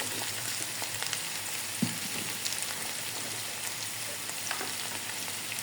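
Chopped onion, garlic and green chili fry in a pan with a steady close sizzle and faint crackling, broken by one soft clunk partway through.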